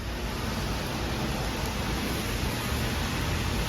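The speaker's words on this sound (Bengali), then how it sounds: "আসার পরপরই দেখুন বৃষ্টি শুরু হয়েছে আর এখানে দাঁড়িয়ে একটু বৃষ্টি উপভোগ করছি" Steady rain falls at an outdoor car wash, a dense, even hiss of drops that stays constant and fairly loud throughout with no voices.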